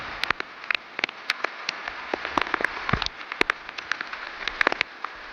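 Rain falls on the Datar hills near Junagadh, Gujarat, with many sharp, irregular drops striking close surfaces over a soft steady patter.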